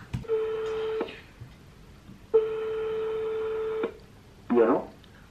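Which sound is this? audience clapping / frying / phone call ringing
phone call ringing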